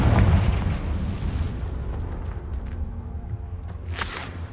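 A Confringo fire-blast spell from Hogwarts Legacy goes off as a heavy, rumbling explosion, loud from the start and decaying into a sustained roar with a brief whooshing burst near the end.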